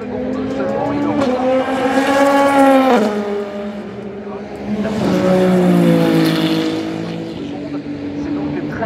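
Porsche and Ferrari race cars at the Le Mans 24 Hours roar past in two loud high-revving passes, each engine note climbing and then falling away, with commentary running under the noise.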